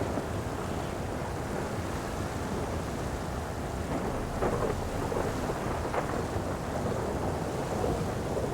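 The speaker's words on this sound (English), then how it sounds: "But it is also really a loud thunderstorm." A loud video-game thunderstorm with steady heavy rain and wind, deep rumbling thunder rolling underneath and a couple of brighter thunder cracks midway, with no talking.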